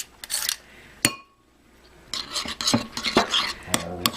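Fresh garlic mixed in a bowl with a utensil: sharp clinks of metal on the dish, a brief pause, then a busy run of scraping and tapping strokes, close up with no talking.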